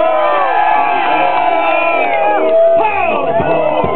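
An audience at a contest cheers, whoops and shouts loudly for a contestant, a dense sustained roar of many voices rising near the end.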